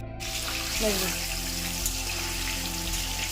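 Potatoes for a mutton curry frying in a pan with a steady, soft crackling sizzle. A low hum runs underneath throughout.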